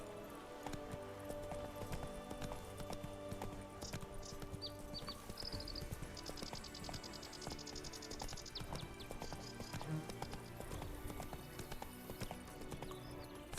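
Steady horse hooves clip-clop at a walking pace in The Witcher 3: Blood and Wine, over a busy game soundscape with faint background tones.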